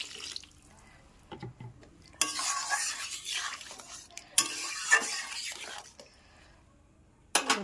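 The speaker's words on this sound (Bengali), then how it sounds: "জল ঢেলে দিই, পরিমাণ মতন জল দিয়ে দেবো।" Water goes into a hot cooking pan in bursts, with a loud hissing rush and sputtering, plus stirring and utensil clatter between pours and a faint voice in the background.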